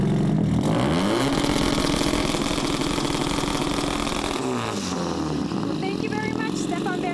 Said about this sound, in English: we're going to show you how loud the thing gets when we start the car.